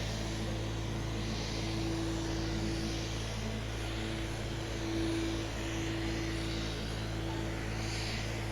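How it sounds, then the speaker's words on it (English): A small propeller float plane drones steadily overhead in southeast Alaska, a continuous engine hum with a faint whine that stays even throughout. "Float planes make frequent flights to Juneau and Sitka."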